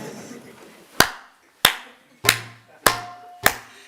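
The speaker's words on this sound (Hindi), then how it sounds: "आप ताली बजाना शुरू कर दी, पर बेसुरी बज रही थी वो" Five sharp claps spaced unevenly at a satsang gathering in Vrindavan, each a loud crisp crack with a short decay, falling off the beat, with faint low murmuring between them.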